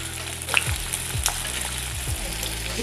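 Onions fry in oil in a pan with cumin seeds for a paneer curry, giving a loud, steady sizzle with a few clinks of a spoon stirring.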